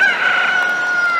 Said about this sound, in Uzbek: Ertalab sizlarni xo'roz uyg'otadi.